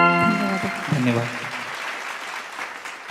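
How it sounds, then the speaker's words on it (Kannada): An audience claps for two singers after their song, a burst of applause that fades over a few seconds beneath a speaking voice. "ಅವರಿಗೆ ಪ್ರೀತಿಯ ಚಪ್ಪಾಳೆಯ ಧನ್ಯವಾದಗಳು"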